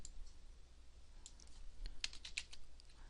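Typing on a computer keyboard, a quiet run of light clicking keystrokes in an irregular cluster, faint and close, with no talk.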